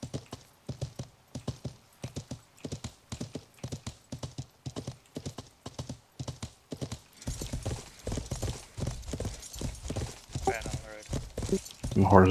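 Horse hooves clip-clop in a steady, repeating rhythm while riding in the medieval survival game Life is Feudal, fairly close and loud, with voices talking over the hoofbeats in the later part.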